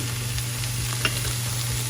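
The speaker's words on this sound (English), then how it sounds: "I just sauteed that for just a minute with the spinach as well" Spinach sautéing in a pan gives a steady close sizzle with light stirring scrapes over a low background hum, one brief louder clack near the middle.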